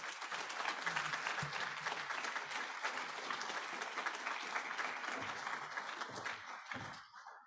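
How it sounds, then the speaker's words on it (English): Sustained applause from the audience at a Project SEARCH graduation ceremony, a dense even wash of clapping that carries steadily for several seconds before tapering off at the end. "So they deserve a round of applause for all their great work."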